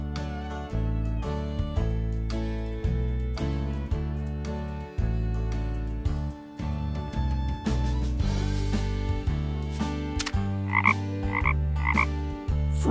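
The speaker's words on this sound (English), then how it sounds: "Frog." A frog croaks over continuous upbeat children's music, with a few short chirping calls near the end of the nearly 13-second stretch.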